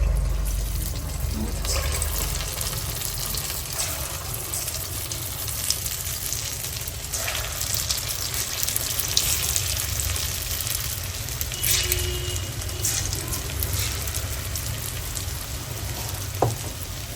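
A steady, close sizzle of paal paniyaram batter frying in hot oil on a low flame, with occasional faint clinks and bubbling throughout.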